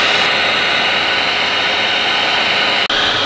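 A Hoover Floor Mate Deluxe floor scrubber runs in dry mode with a loud, steady motor whine and airy hiss, broken by one brief click near the end, with no voices.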